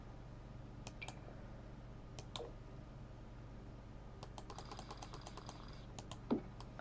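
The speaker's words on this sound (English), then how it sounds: "You have to type violin." Quick bursts of typing on a computer keyboard while entering a search in a Sims 4 house-building session, soft clicking keystrokes in a few short runs over a low steady background hum, with no talking.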